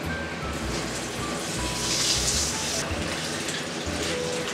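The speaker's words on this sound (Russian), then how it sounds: "Сейчас добавляем теплую воду и оставляем его замачиваться." Warm water pours steadily into a bowl of rice set to soak for an Uzbek-style plov, making a continuous close splashing rush that swells slightly in the middle.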